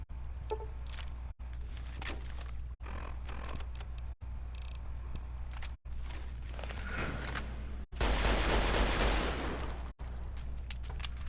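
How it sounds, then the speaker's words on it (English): Survivalist rifle fire in Fallout New Vegas: single sharp shots spaced a second or two apart among game noises, then a denser, louder burst of gunfire near the end. "I like using the survivalist rifle for this mission."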